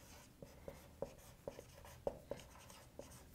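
A pen writing out a math working on paper, a faint close series of short scratching strokes and taps in an uneven rhythm, with no talking.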